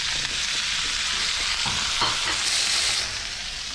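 Meat sears in a hot pan for a holiday dinner, a loud steady sizzle with a few scraping stirs and clatters and no talking.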